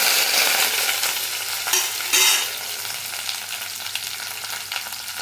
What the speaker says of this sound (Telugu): పోపులు కొంచెం బాగా డీప్ ఫ్రై అయ్యాయి కదా